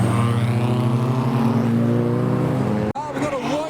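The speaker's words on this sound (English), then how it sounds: "There's a TT with a large spoiler coming up next," A modified Audi TT with a large spoiler and a bonnet scoop revs loudly as it leaves a car show, the engine note climbing close by before a sudden cut and a quieter pull away.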